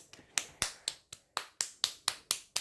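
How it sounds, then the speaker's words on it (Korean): A young child claps happily at home, about ten light, crisp hand claps in an uneven but steady rhythm, close and alone without talk. "박수 기쁨의 박수 소리가"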